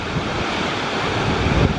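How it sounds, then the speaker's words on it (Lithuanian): Water from a waterfall crashing and spraying nearby, a loud, dense, continuous roar with gusty wind buffeting the microphone. "koks ten ekstrymas, vanduo taško, viską"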